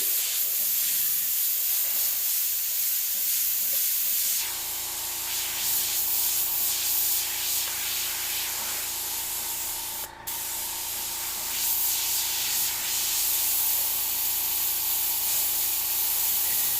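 Iwata Eclipse airbrush spraying paint onto aluminum panels, a steady close hiss with a low compressor hum underneath, running continuously with one brief break partway through.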